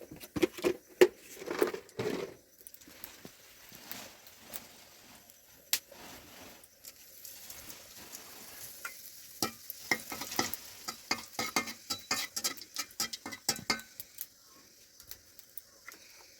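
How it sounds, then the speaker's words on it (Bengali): Cumin seeds and two dry chillies tempering in a little hot oil for an egg curry, heard as faint, sparse pops and patters at first, then growing busier with small crackles and utensil taps, quiet and close. "জিরা ফোড়ন সাথে ভাবতেছি দুটো শুকনো লঙ্কাও দেবো"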